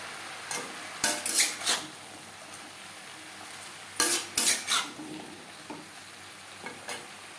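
A spatula stirs pointed gourd, beans and papaya in a pan with a quiet sizzle underneath, the scraping strokes coming in two clustered bursts with a few lighter stirs between.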